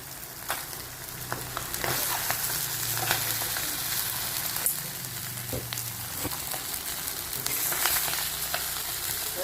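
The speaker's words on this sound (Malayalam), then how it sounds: "ഇത് നമ്മൾ കരിവേപ്പിൻ്റെ ഇട്ട് കൊടുക്കാം." Curry leaves frying in hot oil in a pan give a steady close sizzle and crackle, with occasional stirring scrapes and small pops throughout.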